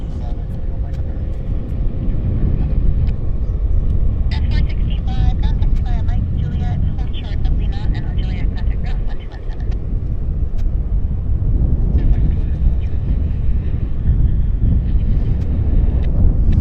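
A WestJet airliner at Vancouver Airport gives a steady low engine rumble mixed with wind buffeting, while a person talks over it in bursts for most of the clip.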